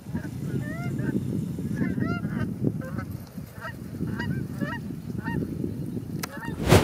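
Geese honk repeatedly as they fly over public land, a flock of calls overlapping in loose bursts at middle distance above a steady outdoor rumble.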